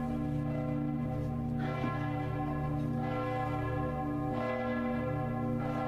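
Heavy church bell tolls open a hard rock song, deep sustained bell strikes ringing out with long droning decay, loud and steady across the whole stretch with no talking over them.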